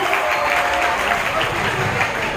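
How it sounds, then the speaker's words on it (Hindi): A school crowd at a Children's Day event claps loudly and steadily for students, a dense, continuous wash of applause that lasts the whole moment. "इनके लिए भी जोरदार तालियों से इनका स्वागत किया जाए।"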